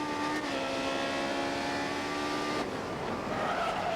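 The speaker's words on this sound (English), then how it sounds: "Locking the brakes up. Big lock up there from us." In the GRID Autosport racing game, race car tyres skid under locked brakes, giving a loud, continuous squeal over a sustained engine roar that shifts into a rougher, noisier scrape partway through.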